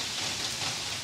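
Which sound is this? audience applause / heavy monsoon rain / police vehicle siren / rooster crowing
heavy monsoon rain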